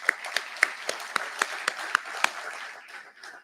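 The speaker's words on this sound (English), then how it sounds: "Let's give them all a round of applause." Applause from a small group at a city's State of the City address, with individual claps standing out at a steady rhythm before it fades.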